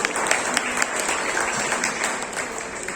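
Children clap together at a school prize distribution, a continuous, dense burst of applause from a large group that stays loud and steady from start to finish.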